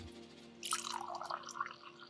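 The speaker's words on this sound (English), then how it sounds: "Pour it in the glass." Tea pours into a glass with a soft, close trickle and splash that builds midway and then thins out. A low steady hum runs underneath.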